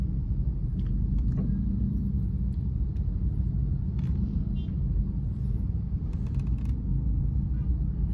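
Car idling and creeping in a weekend traffic jam near a roundabout on the road to Rempang, Batam, heard from inside as a steady low engine and road rumble with faint small clicks.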